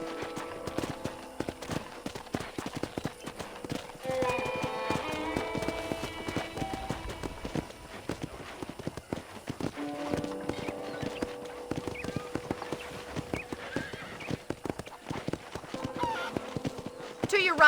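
Horse hooves clip-clop at a walking pace in the video game Red Dead Redemption, a steady rhythmic clatter close by, with someone talking over it and a brief neigh.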